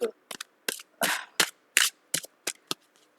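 Tarot cards are shuffled by hand in a series of short, crisp riffling and slapping bursts at an irregular rhythm, close and moderately loud, with silence between them and no talking.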